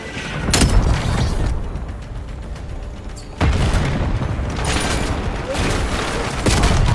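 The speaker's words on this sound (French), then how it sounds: "Je tire le missile de précision sur la cible." A precision missile strike explodes in Call of Duty Black Ops, with dense, loud booms and crackling blasts that build in bursts. A sharp surge hits partway through and the heavy, close barrage keeps going.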